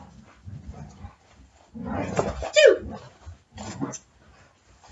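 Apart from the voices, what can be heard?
dogs playing and fighting over a toy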